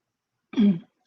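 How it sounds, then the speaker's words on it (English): A single short, harsh cough-like burst from a nearby person, lasting about a third of a second, surrounded by silence. "I had a coughing fit. Apparently it's still going."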